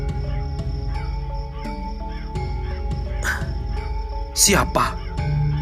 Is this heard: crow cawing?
yes